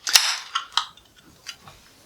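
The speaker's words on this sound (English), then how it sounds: "Let's crack it open and see what we think" A sharp metallic crack and hiss of a can of Brew York Juice Forsyth beer opening, followed by a couple of smaller fizzing snaps and faint clinks, close up.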